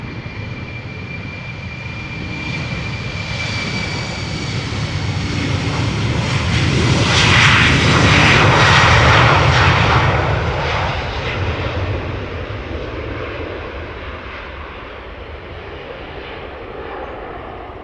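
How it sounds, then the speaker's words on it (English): ITA Airways Airbus jet taking off from the centre runway at Amsterdam Schiphol, a jet roar that builds steadily, peaks loud and close at mid-point with a high whine, then fades gradually into the distance. "Beautiful ITA Airways Airbus preceding it, just took off from center."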